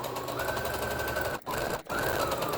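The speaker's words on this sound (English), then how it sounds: "So I will go ahead and start sewing a couple stitches, do my back stitch, and continue sewing." Sewing machine running a quarter-inch seam on a cloth mask, a fast steady mechanical whir of stitching close up, broken by two brief pauses where the needle stops for a moment before continuing.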